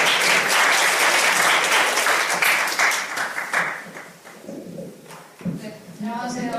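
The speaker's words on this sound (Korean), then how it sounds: "큰 박수로 보시면 감사하겠습니다" A forum audience claps loudly in welcome for a visiting professor, a dense burst of applause that thins and fades, then picks up briefly again near the end.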